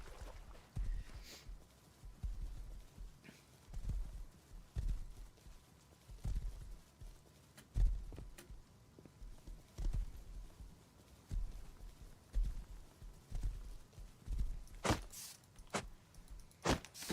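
Horse hooves clip-clopping in the survival game Rust, a slow, regular series of soft thuds roughly every second or two, with a few sharper clicks near the end, quiet and alone.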